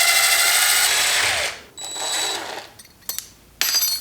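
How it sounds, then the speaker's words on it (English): A power drill whines loudly and winds down as it bores out a screw on a Honda CRF300L motorcycle, then a few clicks and a short second burst of drilling; close, no speech. "I might need to just drill that out."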